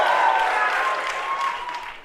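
A crowd cheers and applauds in a continuous, fairly loud wash that holds for about two seconds and fades slightly toward the end.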